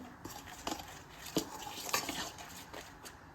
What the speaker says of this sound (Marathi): तूप यामध्ये मस्त असं मिक्स करून घ्यायचं